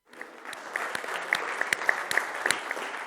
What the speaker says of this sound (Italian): facciamo questo applauso che applaudiamo a Federico Del Frate